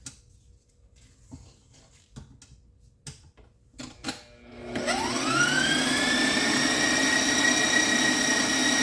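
An electric hand mixer beats cheesecake batter for an Easter bake. A few light clicks and scrapes come first, then the motor spins up into a loud, steady whirring drone that holds to the end.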